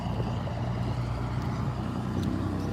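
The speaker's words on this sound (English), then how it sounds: "Right at the train tracks, the loud truck." A loud truck rumbles past near train tracks, a steady low engine drone at moderate distance with no speech.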